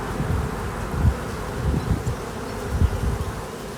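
Honeybees hum in a dense, steady drone close by, with soft low thumps and handling noise rising and falling beneath the buzzing.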